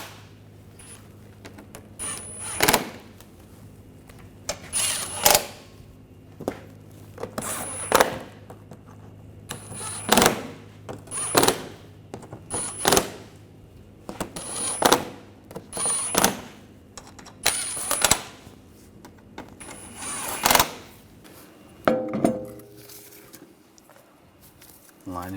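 A hand tool tightens bolts on a 2009–2013 BMW 328i during air temperature sensor and harness work, giving a run of sharp ratcheting clicks in short bursts every couple of seconds, close by, with quiet pauses between.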